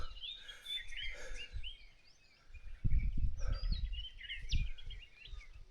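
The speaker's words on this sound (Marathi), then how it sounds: "खूप जास्त पाखरांचा आवाज येतोय." Many birds chirp and call outdoors near a dam reservoir, a busy chorus of high tweets spread across the scene, with a brief low rumble of wind or handling midway.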